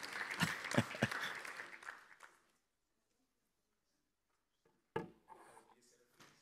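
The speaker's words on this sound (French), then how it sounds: "que je vous demande d'applaudir aussi" Audience applause in a conference hall at a forum on African diasporas, a burst of clapping that fades out over about two seconds, followed by silence and then a few scattered sounds and a voice.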